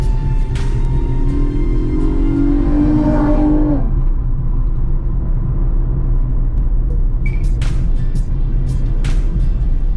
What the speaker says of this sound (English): so that's a fast car a while ago, it's a Honda